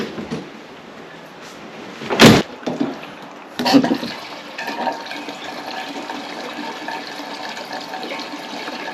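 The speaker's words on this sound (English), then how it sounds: "Fill it with fuel." Fuel poured into a 6-gallon tank for a newly fitted engine: a few sharp clunks and handling noises, then a steady gurgling trickle of liquid filling the tank, close by, with no speech.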